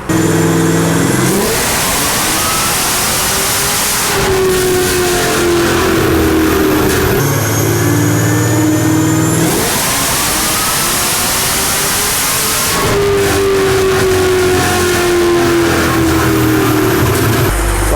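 A Chevrolet Camaro with an A8 automatic transmission revving on a dyno: a loud, close engine repeatedly climbs to high revs, drops back and climbs again in long sweeping pulls, with shifts audible as pitch steps between surges.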